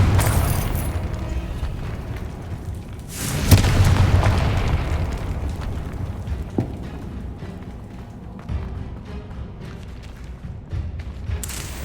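A Confringo fire spell explodes in a Harry Potter video game, a sharp booming blast with a rumbling tail that fades slowly over several seconds, loud and close under steady game ambience.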